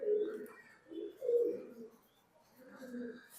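A racing pigeon coos softly nearby in a few low, throaty rolling phrases with short gaps between them.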